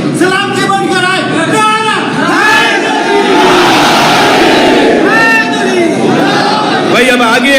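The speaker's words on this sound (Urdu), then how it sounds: "دونوں ہاتھوں کو بلند کر کے نعرہ لگاؤ" A large crowd at a religious gathering chants a slogan in unison, loud repeated voiced shouts rising and falling over a dense background roar.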